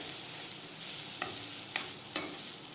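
Ginger and coconut sautéing in a pan, a soft steady sizzle broken by three sharp clicks of a spoon against the pan, close and quiet with no voices.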